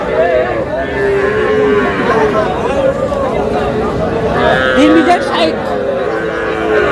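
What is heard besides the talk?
cattle mooing, young local bull calves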